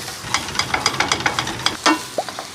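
Thalassery chicken biryani masala is stirred in a pan: a quick run of about a dozen rhythmic scraping strokes over a soft sizzle, close and fairly loud.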